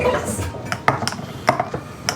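A spoon stirs raspberry soda syrup, clinking sharply against a glass or pot several times in quick irregular taps. The sound is close and fairly loud, with a brief bit of voice at the start.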